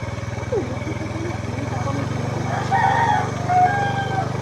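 A rooster crows at a distance over a steady low engine-like drone, with people talking nearby.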